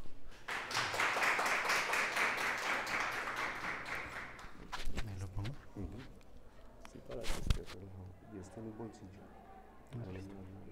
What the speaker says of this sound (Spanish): nosotros de costumbre recibimos a nuestros invitados con un aplauso